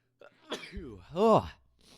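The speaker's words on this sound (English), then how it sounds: "had to sneeze, of course, right in the middle of a video" A single close sneeze with a voiced, drawn-out build-up and a sharp burst, followed by a soft sniff.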